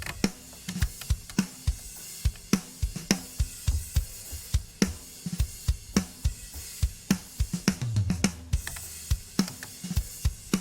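A drum kit processed with AudioScape D-COMP parallel compression at its slowest attack setting plays a steady groove of sharp snare and kick hits with punchy sustain, close and loud, with no voices.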